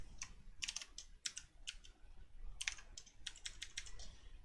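Typing on a computer keyboard while coding a web page layout: close, crisp keystrokes in quick bursts with short pauses between words, heard alone.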